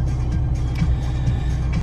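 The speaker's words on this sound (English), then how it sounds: "So what do you think of the exhaust note?" Porsche 991 exhaust note heard from inside the car, a steady moderate low drone that hums evenly under faint cabin noise, with no talking.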